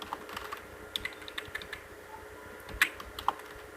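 A few quick keystrokes on a computer keyboard, close and fairly soft, with light irregular taps and a slightly sharper pair of clicks near the end, no voices.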